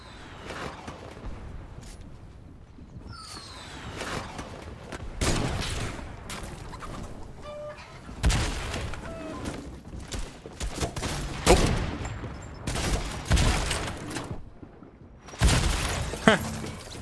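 Gunfire in Fortnite Chapter 2: bursts of shots and sharp impacts come in clusters at moderate loudness, with quieter gaps between them and a voice talking at times.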